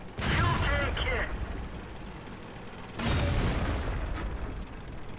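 In World of Tanks, a tank takes hits to its fuel tank and is immobilized: two heavy booming impacts about three seconds apart, loud and close, each trailing into rumbling game noise, with talk over it.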